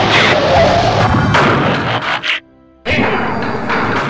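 Loud, dense bursts of weapons fire and crashing explosions fill a Transformers stop-motion battle. The barrage breaks off into a short near-silence and then resumes at full force.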